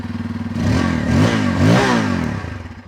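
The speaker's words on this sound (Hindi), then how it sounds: "तो एक बार मैं इसकी साउंड सुना देता हूँ कि साउंड कैसी रहने वाली है।" A Bajaj Pulsar N250 motorcycle exhaust rumbles at idle, then revs up twice in quick, throaty bursts before settling back down, loud and close.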